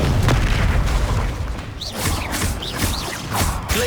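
A Confringo spell from the Hogwarts Legacy video game erupts in a loud booming blast, followed by several rapid whooshing, crackling bursts of magical impacts through the rest of the moment.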